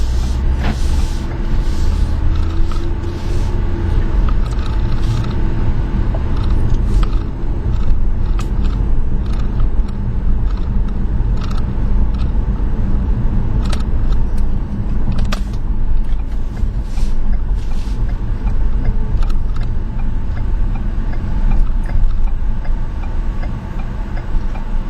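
Cabin of a 2012 Ford Explorer Limited EcoBoost driving over rough roads, steady loud road and engine rumble with frequent clicks, thumps and rattles from the uneven surface, no talking.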